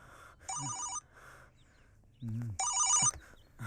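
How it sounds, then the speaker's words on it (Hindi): An electronic mobile phone ringtone plays two loud, bright melodic bursts in a quiet indoor scene from a Hindi film, with a brief voice between the rings. "अबे किसका है? किरण का फोन है यार।"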